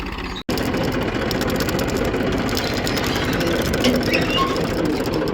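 A tractor engine runs steadily at close range with a throbbing, even drone and vibration, continuous after a brief dropout near the start.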